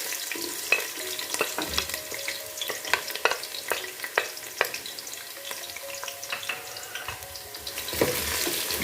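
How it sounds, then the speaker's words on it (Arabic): Onions frying in oil with a little water in a large pot, a close, steady crackling sizzle with scattered sharp pops and occasional stirring scrapes, no talk. "نقلي البصل شويه"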